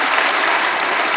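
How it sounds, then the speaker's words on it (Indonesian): A church congregation applauds during a sermon, a brief, loud, dense wash of clapping filling the whole short moment. "Berikan tepuk tangan kita untuk Tuhan kita."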